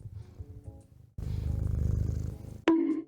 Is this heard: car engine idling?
no